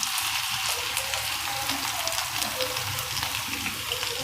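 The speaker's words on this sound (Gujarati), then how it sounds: "એકદમ કડક અને બ્રાઉન થઈ જાય ને ત્યાં સુધી ફ્રાય કરવાના એમ" Farali potatoes frying over low heat until crisp and brown, a steady close sizzle with fine crackling and bubbling oil throughout.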